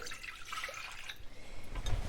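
Cold water and rinsed quinoa poured together into a medium saucepan give a faint, soft splashing and trickling hiss with a few low knocks near the end.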